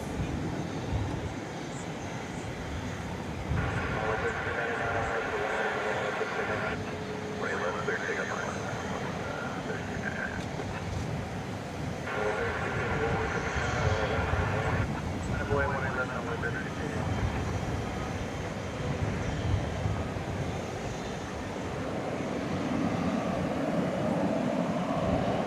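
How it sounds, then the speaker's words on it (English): An airliner taking off at night from a DFW runway, bound for Boise: a broad, sustained jet roar that builds slowly and stays steady, with tonal whines rising and falling above it. "So into the sky goes that aircraft off to Boise."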